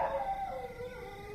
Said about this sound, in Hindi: हाँ भौंक जरा भौंक